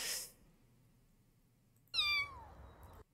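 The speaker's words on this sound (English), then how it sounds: "that'll definitely attract Mama Kitty" A cat gives a single clear, rising-then-falling meow, close and fairly loud, after a brief noisy burst and a stretch of near silence.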